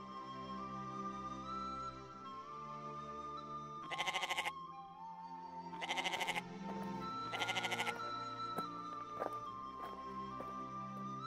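A goat in an animated folk tale bleats in three loud, wavering calls spaced a couple of seconds apart over a soft background music bed, with faint shuffling between them.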